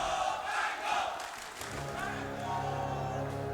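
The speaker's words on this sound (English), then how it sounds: "the crowd is so good at cheering" Esports arena crowd at a Dota 2 tournament match, ESL One Mumbai 2019, roaring and cheering loudly throughout, a sustained dense wall of voices with swelling shouts.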